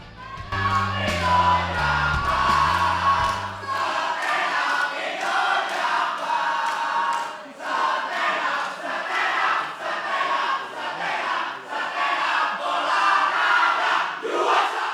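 Supporters of Stand Up Indo Jakbar chant and cheer together in a loud crowd at a stand-up comedy grand final, with a low rhythmic drum beat at the start, then sustained rising and falling yells.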